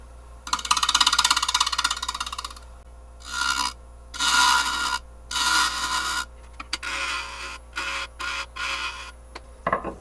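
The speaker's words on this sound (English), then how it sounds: "I'll grab a 5/8 inch bowl gouge, and we're just going to flatten the rim off first so it sits nice and easy in the chuck" A 5/8 inch bowl gouge cuts the rim of a spalted oak bowl spinning on a lathe, loud close rasping bursts of cutting separated by short pauses over the motor's steady hum.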